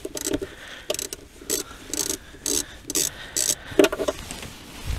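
A hand ratchet clicks in short repeated bursts while an 8mm hose clamp is loosened on a GM 2.4 Ecotec engine, the close mechanical ticking separated by brief pauses.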